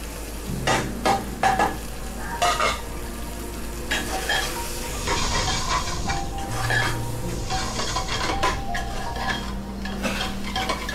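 Mutton pieces frying in a pan for Tamil Nadu style mutton soup, with a steady sizzle beneath repeated scraping and clinking as a spoon stirs against the pan, close and continuous.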